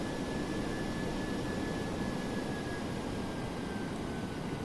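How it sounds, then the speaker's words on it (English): Steady roar of DC-8-73F jet engines in Flight Simulator X, a constant broadband whoosh with a faint high whine, even and unbroken, heard from inside with no talk. "It sounds like I'm gunning the engines to me"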